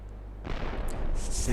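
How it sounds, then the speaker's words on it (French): A sudden deep boom at about half a second, followed by a loud, rumbling barrage of cannon blasts that keeps building to the end, from the video game Paper Mario: The Thousand-Year Door. "Ça s'appelle des coups de canon, très cher."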